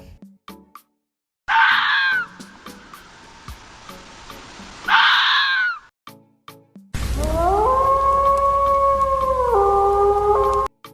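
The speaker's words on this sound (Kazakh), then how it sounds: "Қасқыр." A wolf howls in long, drawn-out wails, two rising and falling calls followed by a louder sustained howl that bends in pitch, set against quiet gaps.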